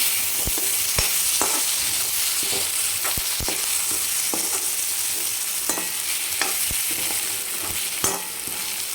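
Country tomatoes fry in a pan with a steady, close sizzle, while a utensil stirring the pan gives sharp, irregular clicks and taps.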